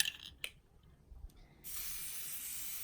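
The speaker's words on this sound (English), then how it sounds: "Just spray directly into the water." A faint rattle and clicks, then a steady loud hiss of an aerosol spray paint can spraying continuously onto water, close up.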